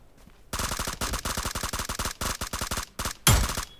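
Rapid automatic gunfire in the mobile battle royale game New State, bursts of close, sharp repeated shots with brief gaps between them, ending in a heavier crack, with no talking.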